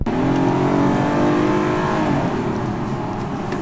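A Kia K7 Premier 3.0 car engine revs up and accelerates after a U-turn, loud and steady with a rising, throaty drone, close by and without any talking.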